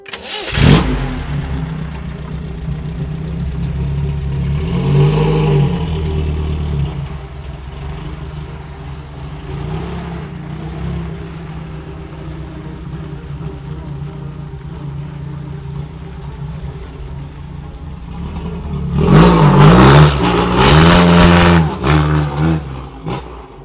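An old British Racing Green car cranks, starts and settles into a close, steady idle, then revs up hard twice near the end with rising, loud engine surges.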